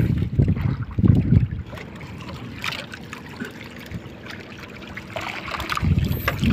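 Small fishing boat pushing through sea waves, with bursts of water sloshing and splashing against the hull at the start and end and a softer watery wash in between.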